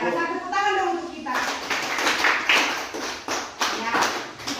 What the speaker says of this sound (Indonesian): Ya, saya rasa tepuk tangan dong untuk kita.